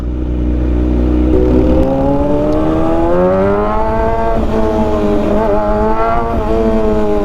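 A 2024 Kawasaki ZX-6R sport motorcycle engine revs up steadily while riding in city traffic, its pitch climbing and wavering, loud and close throughout with a low rumble beneath.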